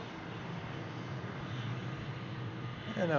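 Jet engines of a Boeing Dreamliner at Brussels Airport, a broad steady roar from some distance that swells slightly toward the end, with a rising whine emerging in the last moments.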